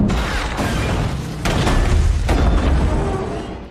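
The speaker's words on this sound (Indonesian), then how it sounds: "membuat ketiganya meledak" A tanker truck blows up along with two other vehicles in an action film, heard as heavy booming blasts and a dense roaring rumble with sharp crackling bursts, loud and continuous with no talk.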